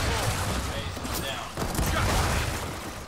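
Dense, rapid gunfire from a first-person shooter game crackles in overlapping bursts throughout, with a player's voice talking over the shooting.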